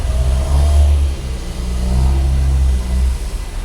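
A stacker machine's engine starts up and revs at a work site where trucks wait to load, giving a steady, fairly loud low rumble that swells and eases across the stretch with no voices over it.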